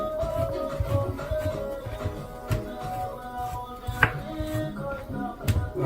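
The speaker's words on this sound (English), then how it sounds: "you kind of want to make some cuts like this, like 1/2 inch cuts, or 1/4 inch cuts" Knife slicing boneless chicken thighs into half-inch or quarter-inch strips on a board, giving a steady run of soft, close chopping taps with a few sharper knocks, alone with no talking.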